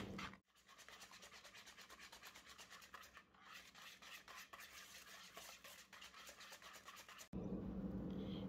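Cake batter whisked by hand in a bowl, a steady run of rapid scraping, swishing strokes close up for several seconds, ending in a brief louder clatter.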